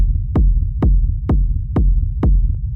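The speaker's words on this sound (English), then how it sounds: "I just wanted those like really, really hard, deep kind of kicks." Deep techno kick drum with boosted low end, raw and textured, thumping five times at an even pace over a low droning rumble, heavy and close.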